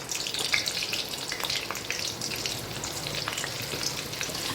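Butter melting into about two ladles of hot oil in a pan, making a steady broadband frying sizzle with light crackles throughout, fairly close and with no voices.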